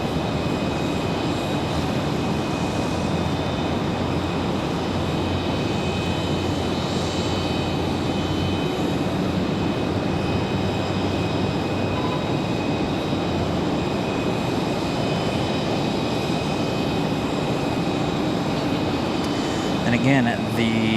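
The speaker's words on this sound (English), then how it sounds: "American Airlines 2361 going to be our next arrival" American Airlines jet arriving from Dallas Fort Worth at Raleigh Durham International Airport, a steady broadband engine roar lasting throughout at constant loudness, with a faint voice over it.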